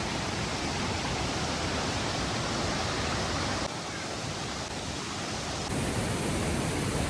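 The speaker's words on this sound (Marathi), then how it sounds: "झरझर झरझर नुसती वाहते आणि पुढे जाऊन तर आज धबधबा पडतोय" A Konkan river rushes toward a waterfall as a steady, dense hiss of flowing water. It stays loud and unbroken, dipping slightly in the middle, with no voices.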